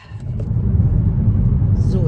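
Car cruising along Route 66 in Arizona on a road trip toward Seligman, a steady low engine and road rumble throughout, with talk over it.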